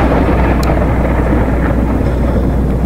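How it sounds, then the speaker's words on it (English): Deep, continuous rolling thunder in a virtual reality lightning storm scene, a loud dense rumble that fills the whole stretch with no voices over it. "is a lightning storm"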